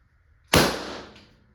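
A single sharp pop from a Valken M17 less lethal launcher dry firing on empty, a loud near crack that decays over about a second, with no voices.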